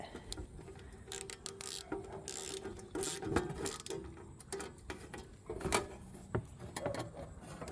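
A ratchet wrench snugs down 17/32 nuts while a portable Kenwood TM-D710GA radio is installed: close, quiet clicking and mechanical ratcheting in short irregular bursts, with small metallic clanks between.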